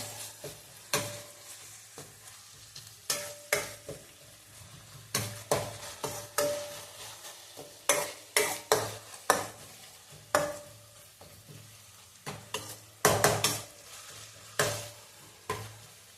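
Tomatoes frying in a pan until soft for egg curry, a soft sizzle underneath intermittent scraping and stirring clatters from a spoon against the pan, spaced irregularly throughout.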